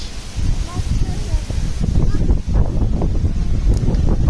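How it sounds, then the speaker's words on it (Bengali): Strong wind, after rain has eased, roars and buffets the microphone outdoors, a steady low rumble with gusts throughout. "বাইরে বাতাস, প্রচুর বাতাস"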